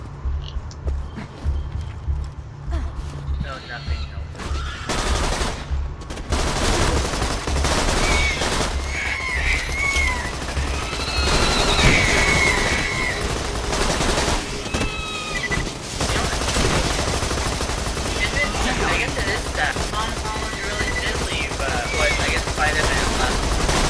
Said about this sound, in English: Shotgun and an assault rifle.